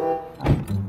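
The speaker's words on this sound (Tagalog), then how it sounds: "Yan po, nagsasara na siya ng kotse." A car door shuts once with a single dull thunk, close and short, against quiet outdoor background.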